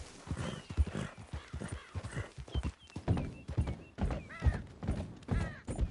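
Horse hooves clip-clopping in a video game, a rapid run of sharp hoof strikes with several whinnies and snorts mixed in, close and moderately loud.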